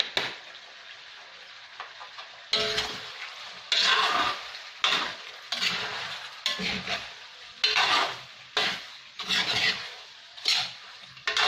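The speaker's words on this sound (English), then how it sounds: "little bit of oil so we can fry it. So, make it little crispy." Pork belly for Filipino adobo frying in a little oil, loud bursts of spattering sizzle come and go in repeated surges with brief quieter gaps between, close up and alone.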